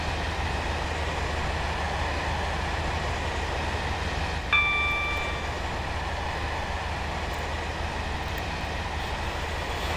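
Class 43 HST train in Roblox Stepford County Railway, a steady rail rumble running throughout with a brief tonal horn-like blip partway through, no talk.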